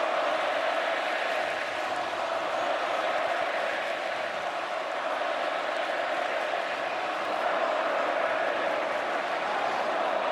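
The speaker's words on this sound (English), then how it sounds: "Crowd chanting overrated at Pavia and the Commodores" A college football stadium crowd during a Texas versus Vanderbilt game keeps up a steady, massed roar of chanting voices directed at a quarterback, dense and continuous throughout.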